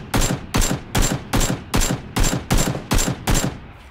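Loud gunfire in the video game PlayerUnknown's Battlegrounds: nine sharp, evenly spaced shots about half a second apart, each with a short decaying tail, with no talking.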